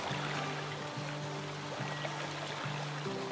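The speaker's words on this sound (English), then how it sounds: "Of course, now it's raining." Rain in the video game The Flame in the Flood, a steady wash of falling water heard continuously under a repeating low game music tone.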